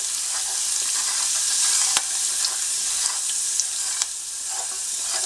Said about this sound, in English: add in our red pepper flakes and our fresh tarragon, and give it a little swirl